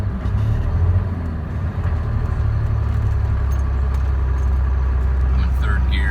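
Cummins diesel truck engine climbing a large hill in third gear while losing power and starved of fuel, a heavy, steady low rumble close by in the cab as someone talks over it.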